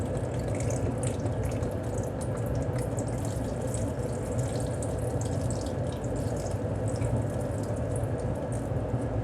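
Liquid pours steadily into a pot of beef and potatoes, a continuous close rushing and splashing stream that holds even and loud throughout with no talking.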